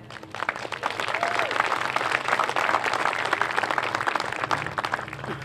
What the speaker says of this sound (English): we applaud you for that